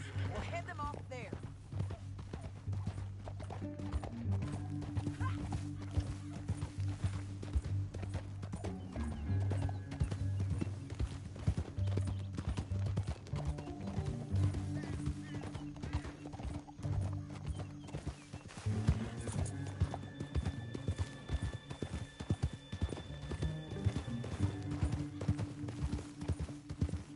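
Horses in Red Dead Redemption II clop steadily along with a rhythmic hoof beat, an occasional whinny and a bed of game music underneath, running the whole stretch without a break.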